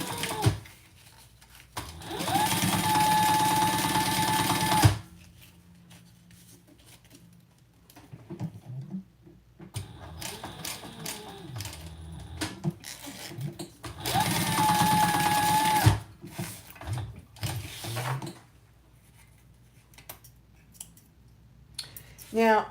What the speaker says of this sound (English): And we're going to top stitch